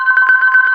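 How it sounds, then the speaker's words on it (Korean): A home telephone rings with a steady electronic trill, a continuous warbling tone pulsing rapidly and loudly through the whole moment, with no voices. "그런데 그때 집 전화가 울렸어요"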